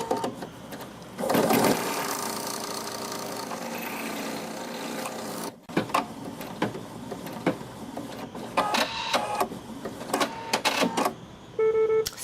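An embroidery machine stitches an appliqué onto a cloth diaper, giving a dense, steady mechanical whirr for several seconds before breaking into scattered clicks and short bursts of stitching up close.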